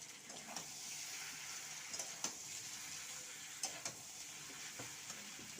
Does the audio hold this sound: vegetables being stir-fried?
yes